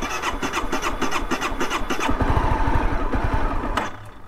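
A 2011 Honda CBR250R motorcycle running on a nearly empty fuel tank: the starter cranks with a rhythmic chatter, the engine catches and runs roughly for a second or two, then cuts out abruptly.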